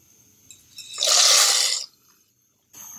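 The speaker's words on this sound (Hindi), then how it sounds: "अब हम इसमें मैक्रोनी डाल देंगे।" Dry macaroni pasta poured into a pot of boiling water with a little oil on a home stove, a loud rushing splash and sizzle lasting under a second, then quieter bubbling.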